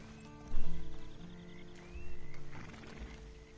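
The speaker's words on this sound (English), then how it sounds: "Then you better get on this horse." Horse hooves clip-clop in two bursts with a whinny in the Red Dead Redemption video game, fairly faint and alone with no talk.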